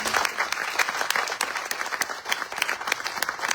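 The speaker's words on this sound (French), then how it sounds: "On les applaudit bien fort." A crowd at a French political event claps warmly for about four seconds, a dense patter of hands with sharp individual claps standing out and no voices over it.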